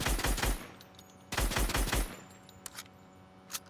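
Rapid automatic gunfire in the video game Animated Dads, two loud sustained bursts of fast shots separated by a pause, followed by a few isolated faint clicks and a single sharp report.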